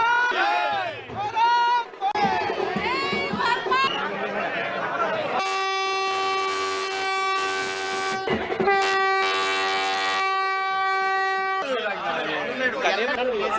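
A Vande Bharat train at a station sounds long, loud, sustained horn blasts in the middle, with people talking and crowd chatter before and after.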